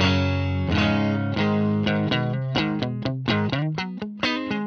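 Overdriven electric guitar played through a Marshall Origin 20C amp with its built-in boost engaged, a sustained chord followed by a series of punchy, rhythmic strummed chords, loud and upfront with no talking.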